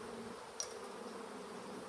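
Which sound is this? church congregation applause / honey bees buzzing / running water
honey bees buzzing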